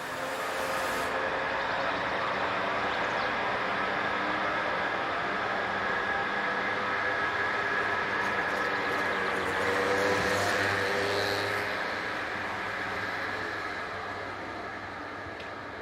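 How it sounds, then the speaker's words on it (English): A 1966-built EM837 shunter operated by Cirsa works in the early morning, giving a steady broadband diesel rumble and hiss that stays loud and even throughout, with a low engine drone joining partway and no voices. "this example of 1966 built EM837 operated by Cirsa, which is seen here going about its early morning business"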